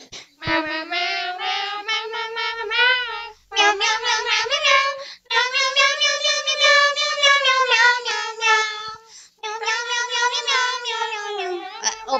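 Several voices sing a melody entirely in meow sounds, imitating cats, in a steady, loud chorus broken by a few short pauses.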